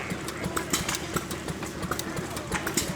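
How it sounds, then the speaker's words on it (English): Antique hit-and-miss gas engines, small farm machines once used for saws, water pumps and washing machines, chugging at an outdoor engine show, with rhythmic knocking pops and faint talk in the background. "These little antique gas-powered machines, which used to run just about everything from a cross-cut saw to a water pump to a washing machine on farms"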